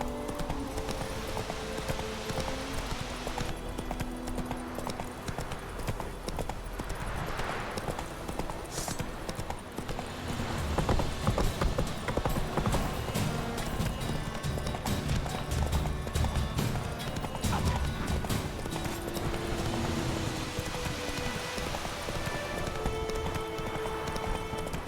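Roach, a horse in The Witcher 3, gallops with a steady, continuous clip-clop of hooves that runs throughout, loud and close, amid game music and ambience, with a brief neigh possible.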